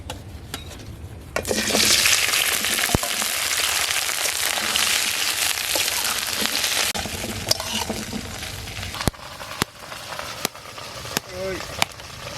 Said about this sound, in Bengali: তেল গরম হয়ে গেছে, এবার ঢেঁড়সগুলো ভেজে নেব।